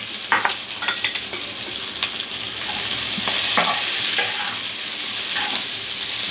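Chopped onion and okra being sautéed in a pan until brown, a close, continuous sizzle with repeated scraping and stirring strokes and small pops, no voices.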